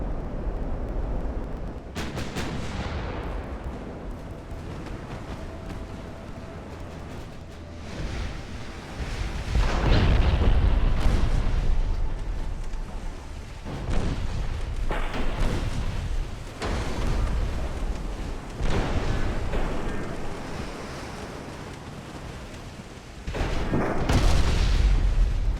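Heavy naval guns fire in the naval warfare game Ultimate Admiral: Dreadnoughts, deep booming salvos and rumbling blasts repeating at irregular intervals over a continuous sea-and-engine wash, loud and without talk.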